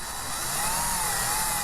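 A drill bit boring into an RV roof vent cover during a Camco max air vent installation, a steady, high whining grind held for about a second and a half.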